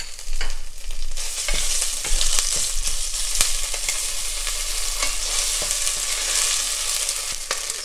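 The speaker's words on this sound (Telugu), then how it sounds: "సో సేమ్ ప్యాన్లో నేను 1 table spoon garlic paste add చేస్తున్నాను" Garlic paste fries in a hot pan with a close, bright crackling sizzle and brief stirring scrapes, sounding alone without speech.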